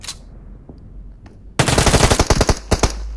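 Rapid automatic gunfire in the mobile battle royale game PUBG Mobile, bursting loud after a quiet opening, with sharp shots and a few spaced single cracks near the end.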